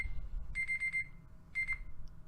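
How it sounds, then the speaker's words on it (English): An alarm clock rings in two short bursts of rapid, shrill beeping separated by a pause, fairly close and clear over a low background hum. "Sorry about that, my alarm clock."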